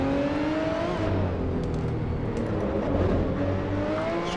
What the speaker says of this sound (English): That's a Ferrari. It can over rev.